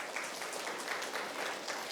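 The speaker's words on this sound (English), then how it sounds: "Can we have a round of applause?" Moderately loud applause from an audience at a diversity and inclusion talk, a dense, steady clatter of many hands filling two seconds.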